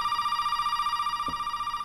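A telephone in Resident Evil 7 rings with a steady, buzzing electronic tone that holds unbroken for nearly two seconds. It sounds close and fairly loud, with a faint low thump partway through.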